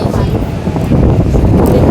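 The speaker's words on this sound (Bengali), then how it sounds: "এত সুন্দর হাওয়া এখানে" Strong wind at Digha beach buffets the microphone in a continuous low roar, with faint surf-like rushing beneath it.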